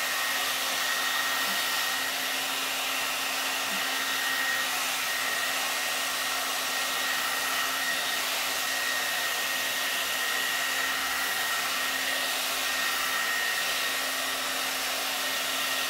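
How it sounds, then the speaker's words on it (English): A SUTRA blowout brush hair dryer roars steadily and evenly for the whole stretch, a constant airy blowing hum with no breaks and no voices. "I can like roll it up and blow dry it without any issue at all"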